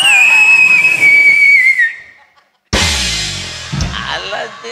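A loud shrill whistle from a firework sweeps slightly downward and fades, then after a short silence a harsh hissing burst erupts with shouting.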